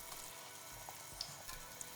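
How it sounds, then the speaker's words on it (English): Faint bubbling and sizzling hiss from a pot of salted water boiling on the stove, a soft continuous simmer with occasional small pops. "Add some salt to the boiling water."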